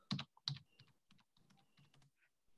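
Close, crisp clicks of typing on a computer keyboard, a few quick strokes, some louder, then a short burst of lighter taps, with no talking.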